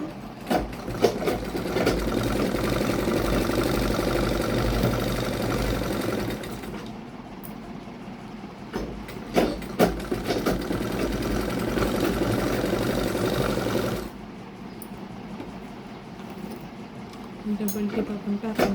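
Domestic sewing machine stitching the seam of an unlined katori blouse, running loud and steady for several seconds, pausing briefly, then running again, with a voice talking over parts of it.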